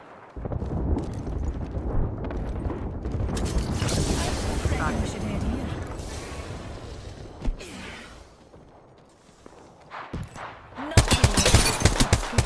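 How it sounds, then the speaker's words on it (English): Automatic weapons fire in Apex Legends amid a battle, with dense rattling bursts, booming impacts and a heavy rumbling bed, easing briefly before a fresh loud volley; voices speak over parts of the fighting. "Opening fire."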